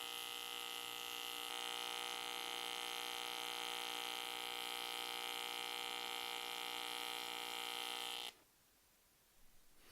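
A Bossweld MST185 multipurpose welder in lift TIG mode holds a steady, loud electrical hum with a constant buzzing tone for about eight seconds, then cuts off abruptly into near silence.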